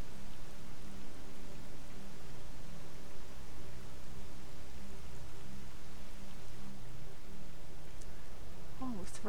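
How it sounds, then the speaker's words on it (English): Steady rain falls in a video game set around Pripyat, an even hiss of drops that continues evenly throughout at moderate level, with a low ambient hum beneath and a brief sound near the end. "Oh, is the rain gonna end?"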